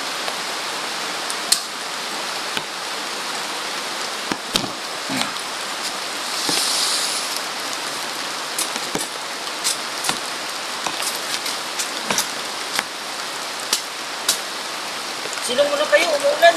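Heavy rain pours steadily onto a surface with a constant hiss and scattered sharper drip impacts, while a few faint voices and knocks sit underneath.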